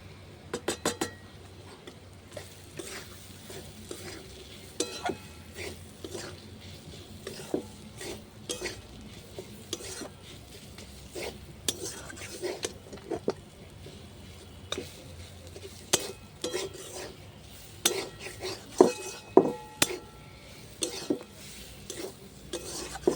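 Ginger and onion frying in a pan for crisp kachori, stirred with a utensil that scrapes and clinks against the metal in irregular taps over a low background, close and moderately quiet.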